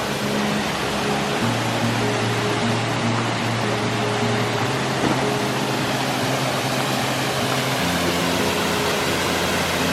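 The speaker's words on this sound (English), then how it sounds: "I reckon it's just waterfalls all the way up." A waterfall in the Black Forest gushes with a steady, loud, broadband roar that holds constant throughout, with no voices over it.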